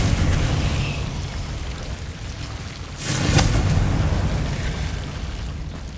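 A Confringo fire spell from Hogwarts Legacy on PS5 bursts in a single loud whooshing blast midway, rising out of a steady low rumbling game ambience that carries on before and after.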